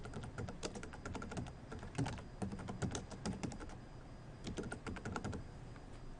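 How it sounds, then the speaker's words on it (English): Someone types a chat message on a computer keyboard, a steady run of quick, close key clicks in bursts with a short pause in the middle, no voices. "type in your message"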